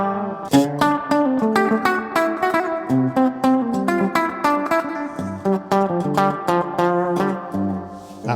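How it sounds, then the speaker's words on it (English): An electric guitar with effects and mild distortion strums a major chord with a flat seventh, repeated in a steady rhythm of ringing chord strikes, loud and close with no talk. "It's all about playing a major chord with a flat 7 in it."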